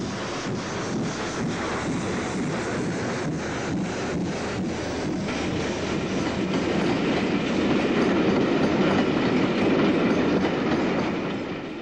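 A steam locomotive train rumbles steadily at Leicester Central Station with rhythmic clickety-clack from the wheels, growing slightly louder toward the end, with some wind buffeting.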